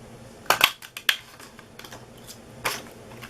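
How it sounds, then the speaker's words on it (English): A paper craft punch cuts a cupcake shape and a label from paper, producing a handful of sharp, close crunching clicks in quick clusters with quiet gaps between them. "I'm going to use the modern label punch to cut out the word cupcakes."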